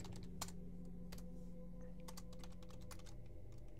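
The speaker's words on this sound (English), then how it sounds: "Oh, I had to type it in." Computer keyboard typed on for a custom zombie map in a video game, with scattered faint key clicks in an irregular rhythm over a steady low hum, and nobody speaking.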